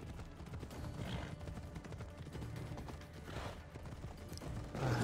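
Faint horse hooves thud and clatter at a quiet level in an Assassin's Creed Odyssey game scene, with creaks mixed in and no talking.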